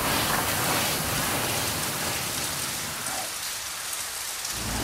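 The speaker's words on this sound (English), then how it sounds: "it's just started to rain again" Steady rain falls outdoors at the top of a house during exterior wall rendering, a dense continuous hiss of drops on surfaces, fairly close and even in level throughout, with no voices.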